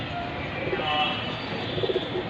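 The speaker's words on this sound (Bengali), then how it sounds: "মাশাল্লাহ it's a beautiful pigeon পেয়ারটি sell হবে" A pair of fancy red-geared pigeons with feathered feet, being sold, coo softly in a few low, muffled bursts over a steady background hiss, most clearly near the end.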